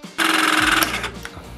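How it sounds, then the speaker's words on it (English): A Burndy crimping tool pressing a copper terminal whirs through its crimp cycle for about a second, loud and close, with a sharp pop near the end and a lower mechanical hum fading out afterward. "Tool indicates a full cycle has been completed when an audible pop sound is heard."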